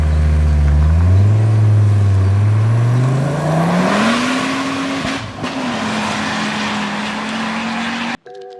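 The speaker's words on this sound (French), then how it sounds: "la fameuse 5 cylindres que je vous conseille, qui fait un bruit mais ravageur" A five-cylinder turbocharged coupe engine revs loudly, its pitch climbing through a long acceleration and then holding a steady high drone before cutting off abruptly.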